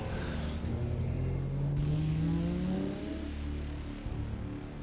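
A video game car engine in the Half-Life 2 mod Comatose revs and rises in pitch, then fades, over a constant low rumble.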